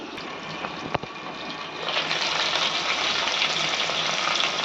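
After a couple of light clicks, a steady hissing sizzle of potatoes frying in oil rises and continues, close and moderately loud.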